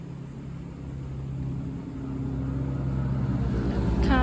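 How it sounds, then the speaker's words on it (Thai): Steady road traffic rumble builds gradually, with vehicles passing nearby and a low engine drone growing louder toward the end. "ขออภัยในเสียงรถด้วยเยอะมากเลย"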